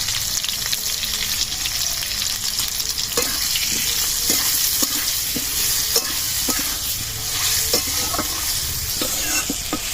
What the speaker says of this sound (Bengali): আমটাকে একটু নাড়াচাড়া করে ভেজে নিচ্ছি।